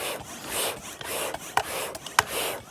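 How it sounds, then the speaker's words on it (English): Handmade forged knife edge being sharpened, a steady rasping scrape with repeated strokes and a few sharper bright hits, moderately close and alone. "heat it up one last time, make the edge thinner, and then try to sharpen it"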